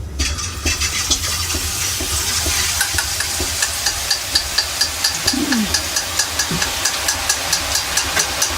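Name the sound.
boondi batter frying in hot oil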